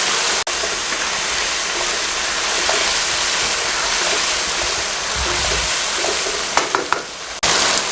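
Green peas and minced meat fry together in a hot pan, a steady dense sizzle with occasional stirring scrapes near the end, no voices.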